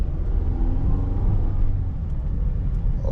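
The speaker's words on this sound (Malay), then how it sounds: "Tekan minyak kuat sikit Tengok gearbox tukar macam mana" A 2013 Perodua Myvi 1.5 SE automatic drives on a test run, its engine and road rumble a steady, close, continuous drone with no break.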